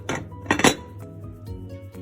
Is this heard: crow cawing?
no